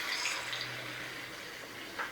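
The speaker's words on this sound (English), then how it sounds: "I'm just going to swish some water between the 2 cans to make sure we get all that goodness out" Water swishes and pours between two emptied tomato cans in a home kitchen, a faint, soft sloshing with a brief splash near the end.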